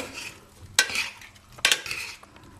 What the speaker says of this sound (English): Give it all a great big stir.